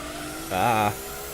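Car spinning out in the Gran Turismo 2 racing game: a brief, loud tonal engine or tire squeal rising and wavering for under half a second over steady engine drone, with no speech.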